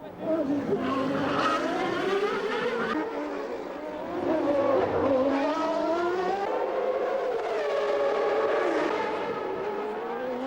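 A Ferrari Formula One race car driven by Mansell, its high-revving engine whining up and down through gear changes and passing by, heard under a commentator's talking throughout.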